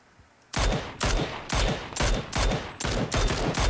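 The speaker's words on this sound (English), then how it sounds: "Someone shooting me!" Rapid automatic gunfire in a video game with a Mini-14 rifle, a loud sustained burst of repeated shots after a brief quiet start, continuing in quick clustered volleys.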